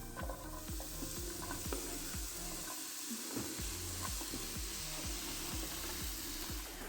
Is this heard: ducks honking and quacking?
no